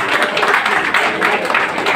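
An audience at a BJP district event in Karol Bagh claps loudly, a thick, continuous burst of applause with a slight pulsing rhythm and no break.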